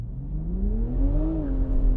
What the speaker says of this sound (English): Oh, a little bit of wheel spin, might have affected things.